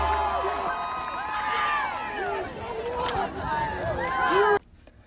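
A high school cheer squad performs before a crowd, with many voices shouting and cheering together over rhythmic stomping and general hubbub, loud and sustained before cutting off abruptly near the end.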